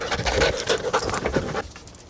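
A police dog sniffs and pants rapidly and close by while searching a room, a steady run of quick breaths and snuffles that fades out near the end.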